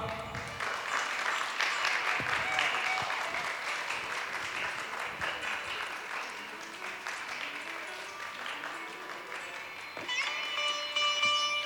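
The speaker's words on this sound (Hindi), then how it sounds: "जोरदार तालियों से स्वागत करिए" Audience applause at a junior singing contest prize announcement, steady dense clapping filling the whole stretch, loud and continuous, with a brief swell near the end.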